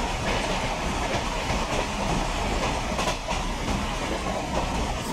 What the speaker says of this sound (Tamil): ஸோ இப்போ தான் ட்ரெயின் கிராஸ் ஆச்சு,